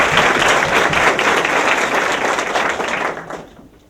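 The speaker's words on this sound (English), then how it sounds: "I would like a warm round of applause for the class of 2015." Audience applause at an 8th grade promotion ceremony for the class of 2015, a dense, steady crowd clapping that fills the room, holding loud before fading toward the end.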